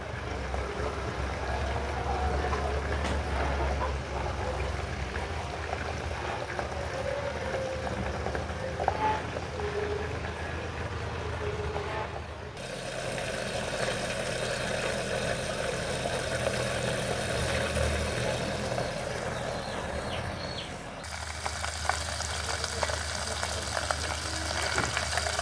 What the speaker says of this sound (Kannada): ಕುದಿಸ್ತಾ ಇದ್ದೀನಿ ಆ ತುಪ್ಪನ